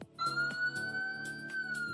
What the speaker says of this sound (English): There's like actual sirens instead of the giveaway siren.